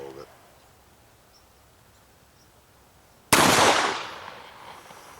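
A single loud, close gunshot from a Smith & Wesson 686 Plus .357 Magnum revolver firing +P rounds, a sharp blast that rings and decays after a few quiet seconds outdoors.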